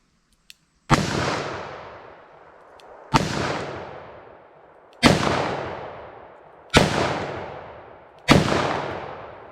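Five loud, sharp gunshots at a ballistic test with PPU jacketed hollow point ammunition in 10mm or .44 Magnum, spaced about two seconds apart, each with a booming echo that decays outdoors, alone without speech.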